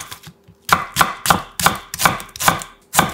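A knife slices half an onion into thin strips on a board, making six or seven sharp, rhythmic chops after a short quiet start, close and clear with no voices.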